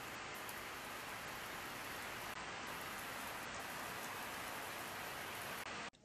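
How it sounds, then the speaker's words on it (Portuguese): Gentle, calm rain falls steadily outdoors near a flowering tree, a soft, even hiss of drops that stays constant, faint and distant, and then cuts off abruptly at the end. "Começou a chover aqui, tá uma chuva bonita."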